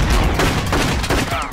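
Gunfire in a Punisher versus Red Hood fight, a dense, loud burst of repeated shots running through the whole moment with sharp cracks over a thick, busy background.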